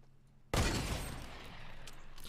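Gunfire in the Fortnite video game, a sudden loud burst of shots that hits hard and then holds as a dense, sustained roar of firing until the end.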